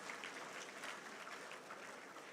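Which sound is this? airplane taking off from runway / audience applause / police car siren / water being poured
audience applause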